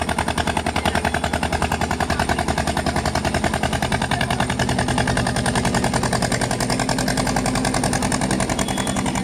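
A bhutbhuti, a motorised country boat, runs its engine steadily throughout, a loud, close, rapid chugging that never lets up, with no voices over it.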